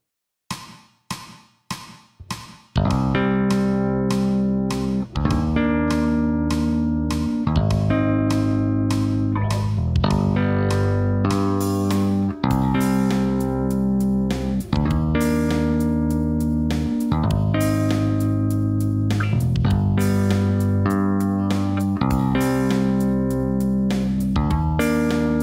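A few sharp tapped clicks open, then sustained chords two-hand tapped on a bass guitar ring out in a steady, overlapping pattern, loud and distorted-sounding, with no talking.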